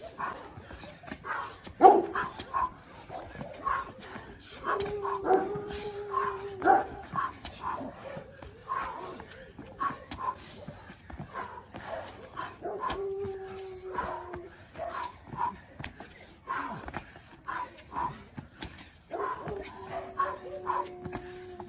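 Dogs bark, yip and whine in scattered bursts over about twenty seconds, some calls drawn out into howl-like tones, at moderate distance, with little or no talk.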